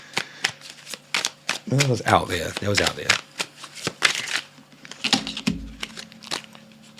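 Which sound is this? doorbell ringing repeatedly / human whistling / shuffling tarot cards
shuffling tarot cards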